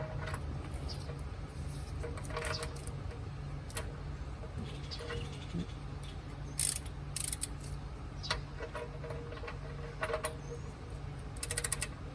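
A torque wrench tightens the oil drain plug to 20 foot-pounds during an oil change on a 2.4L Jeep Cherokee, giving faint scattered ratchet clicks against a quiet, steady background.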